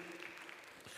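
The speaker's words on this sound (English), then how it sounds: "Give the Lord a hand clap for him helping me." A church congregation claps for the Lord in a brief burst of steady, dense applause that fills the space at low volume, with no speech over it.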